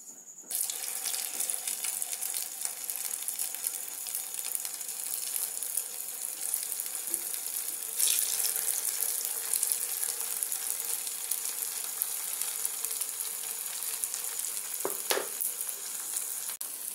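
Batch of snake gourd kofta balls sizzling in a pan of oil: a continuous, loud crackling hiss with a few brief utensil clinks near the end as the fried balls are lifted out.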